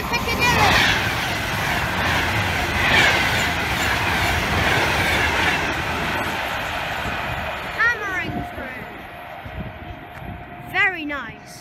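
A Class 390 train heading for Manchester Piccadilly passes through Berkhamsted station with a steady, broad rumble and rail clatter, with bird chirps and faint wheel squeals toward the end.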